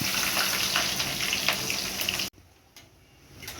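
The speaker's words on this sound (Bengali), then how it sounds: "এবার আমি বিনস আর গাজর দিয়ে দেবো।" Green beans and carrots fry loudly in hot oil with cloves, cinnamon and cardamom for fried rice, a dense close sizzle that cuts off abruptly partway, leaving a much quieter, fainter crackle.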